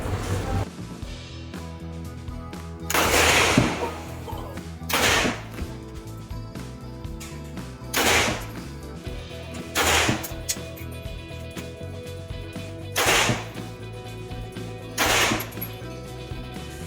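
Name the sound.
AK-47 rifle being fired at a shooting range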